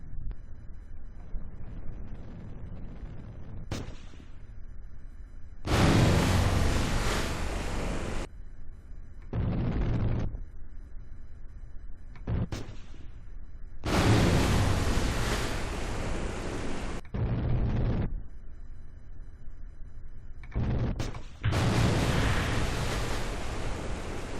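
Rocket crashes during failed landings in Kerbal Space Program, a series of sudden roaring noise bursts and explosive blasts separated by quieter engine-like rumble, loud and abrupt, repeating about half a dozen times.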